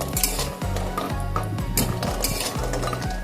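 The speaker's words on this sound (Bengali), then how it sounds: "বড়িগুলো সব আমি লাল লাল করে ভেজে নিয়েছি, এখন আমি বড়িগুলো উঠিয়ে নিচ্ছি" Fried bori, Bengali lentil dumplings made from biuli dal, being lifted out of a pan with a utensil, giving repeated close metallic scrapes and clinks against the pan over a faint sizzle of hot oil.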